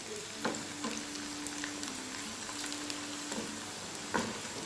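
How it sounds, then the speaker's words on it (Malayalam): Garlic sautéing in oil for chicken pickle, a continuous soft sizzle and crackle close up, punctuated by a few spoon knocks and scrapes against the pan, with a faint hum in the background. "നല്ല ബ്രൗൺ കളറാവുന്നവരെ വഴറ്റിയെടുക്കുക"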